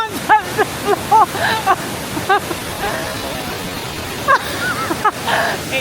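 A Croatian waterfall gives off a steady, broad rush of falling water that fills the background, with someone talking intermittently over it.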